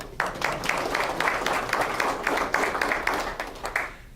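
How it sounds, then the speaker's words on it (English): Audience giving a round of applause at a talk, dense clapping starting abruptly and holding steady with distinct individual claps, then tapering off near the end. "So let's give him a round of applause."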